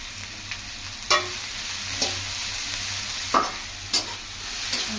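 Chopped onion and capsicum sizzle steadily in a hot pan while a spoon stirs them, with several distinct scraping strokes of the utensil punctuating the constant frying hiss.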